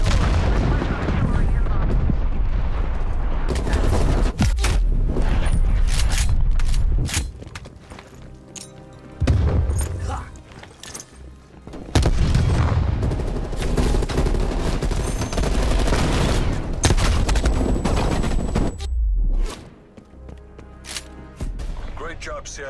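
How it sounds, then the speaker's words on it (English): Hostile artillery and gunfire in a combat video game: dense, sustained bursts of shots and booms with gaps of near-quiet, loud and close throughout, with game voices mixed in. "Hostile artillery targeting active."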